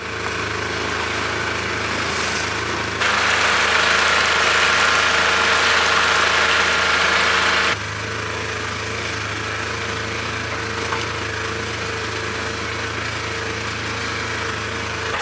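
A vehicle engine idles and runs steadily as it heads onto a back trail of a homestead after a storm, a continuous mid-level drone that rises in intensity for a few seconds before settling back, with no voices.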